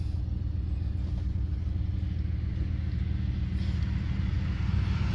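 A truck driving along, a steady low engine rumble and road drone heard from inside the cab, continuous and even with no talking.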